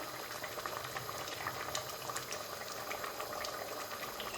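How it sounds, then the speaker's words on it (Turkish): Madımak stew of dried purslane boiling uncovered in a pot, a steady soft bubbling and simmer with faint crackles, continuous and fairly quiet, no talking. "5 dakikada şöyle ağzı açık kaynasın"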